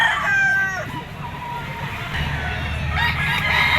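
Rooster, a bull stag, crowing at a poultry auction market in Lipa; two drawn-out crows, one at the start and another near the end, over a busy crowd hum.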